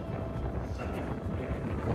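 Steady 25-knot wind at sea roars and buffets the microphone, a dense, rough rush without pause over the whole moment.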